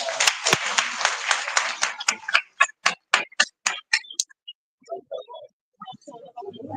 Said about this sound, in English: Please join me to applaud our panelists.